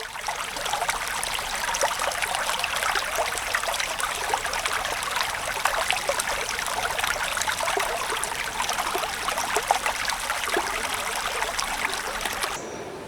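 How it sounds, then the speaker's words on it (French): A 100-metre waterfall in the Irousta gorge of the Basque mountains roars steadily, a dense continuous rush of falling water heard close and loud throughout. "Avec sa cascade haute de 100 mètres qui tombe à grand fracas dans la vallée"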